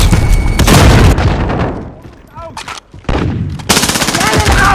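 Gunfire in Call of Duty: Modern Warfare team deathmatch, loud close bursts of automatic fire and heavy booming shots in clustered volleys with a short lull between, game voices calling out over it.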